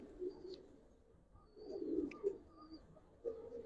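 Giribaz pigeons cooing softly at close range, a few low, throaty coos with faint higher chirps in between and quiet gaps, no talking.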